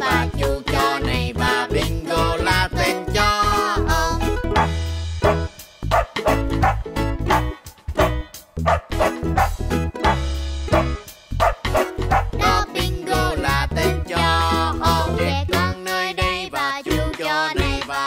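Barking sounds from Bingo, the dog in a Vietnamese children's Halloween song, come in rhythmic bursts, loud and mixed into the music, with singing over a steady beat.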